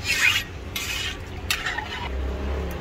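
Beef and vegetables stirred in a cooking pot over a charcoal fire, a close scraping and rasping of utensil against metal in several bursts, with a low rumble underneath and no talking.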